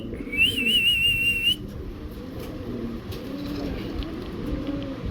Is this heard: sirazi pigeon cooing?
yes